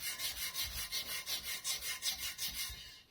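A coarse Scotch-Brite pad scrubs the inside of a wheel rim in fast, even back-and-forth strokes, each pass a rough rasping swish, about a dozen rhythmic strokes close by with no talking.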